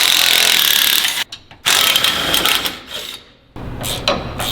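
10 mm bolts are removed from the sway bar of a 2020 Duramax truck, with a loud whirring power tool running in bursts and short pauses between them.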